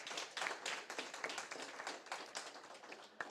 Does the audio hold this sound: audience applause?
yes